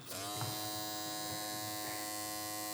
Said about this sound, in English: here's the Cyborg clipper